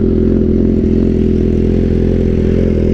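A BMW S1000RR motorcycle fitted with an Akrapovic exhaust idles outside a theatre, giving a loud, steady, close low rumble with an even pulsing throb that holds throughout.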